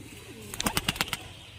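Murshidabadi pigeons give a brief burst of soft, rhythmic coos and wing-like pulses, about six quick notes close by against a quiet background.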